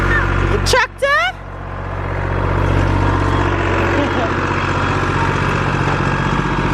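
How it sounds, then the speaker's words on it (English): A tractor engine passes nearby, a steady low mechanical drone that builds after a brief pause and holds loud to the end, with a voice and bird-like chirps early on. "Tractor?"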